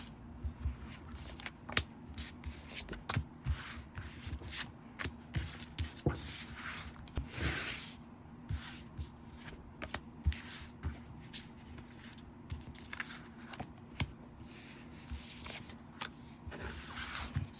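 Tarot cards are shuffled and drawn close by, giving quiet, irregular riffling and soft tapping and sliding through a hushed room with no talking.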